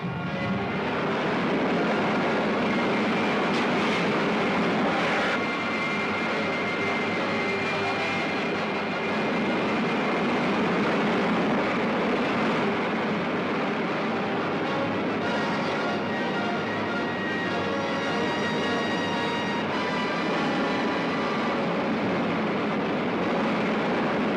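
A rocket jet engine fires with a continuous loud roaring rush that holds steady for over twenty seconds, with a faint whine riding on top and no talk.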